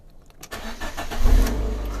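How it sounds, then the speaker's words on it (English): Blue Fiat 500 Abarth with about 64,800 miles, a crashed salvage car, cranking briefly then catching and rising into a close, loud engine rumble that settles into a steady idle. "Let's start her up again."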